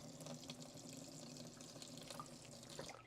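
Water from a tap pours into a glass in a kitchen, a continuous close trickling stream that ends with a small clink.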